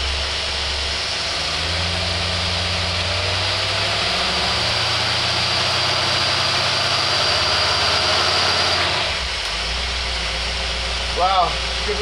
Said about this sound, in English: Wow, good running carburetor.